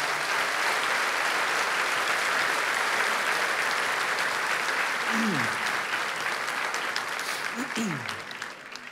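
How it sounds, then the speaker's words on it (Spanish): A church congregation applauding loudly during a sermon, a dense, sustained burst of clapping with brief cheering voices near the end, fading slightly at the close. "Denle un aplauso fuerte al Señor."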